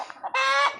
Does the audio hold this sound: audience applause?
no